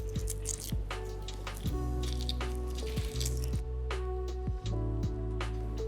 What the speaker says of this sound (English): Break up the shell and hopefully, because we've pricked a hole in it, should peel relatively easily.